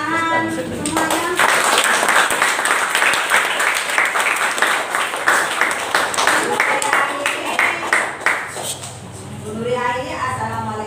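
A seventh-grade class applauds in a classroom at the end of a lesson, with steady, dense clapping lasting about ten seconds and children's voices mixed in.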